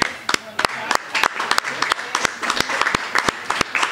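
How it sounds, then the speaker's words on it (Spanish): An audience at a film festival presentation gives a sustained, dense round of applause, many hands clapping close together for the whole stretch with no pause. "lo que pido, un gran aplauso para Arthur"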